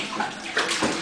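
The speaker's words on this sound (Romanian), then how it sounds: "Mai pune apă pe el." Water poured and splashing in a short gurgling, sloshing burst, close and fairly loud, with no talk.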